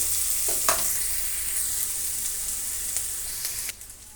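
Onions fry in a pan for carrot upma, a soft close sizzle with a few stirring scrapes, fading sharply near the end.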